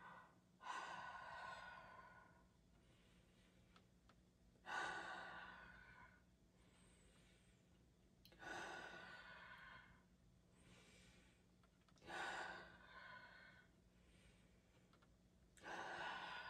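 Slow guided breathing during a children's circle-time exercise, four or five long breaths spaced a few seconds apart, soft rushing inhales and exhales alone without talk.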